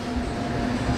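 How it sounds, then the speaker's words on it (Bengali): A passenger train pulling into Kharagpur station gives a steady low rumble with a faint sustained tonal hum. "1 ঘন্টা 45 মিনিটের তার প্রথম স্টপেজ খড়গপুর ইন করছে আমাদের এই ট্রেন।"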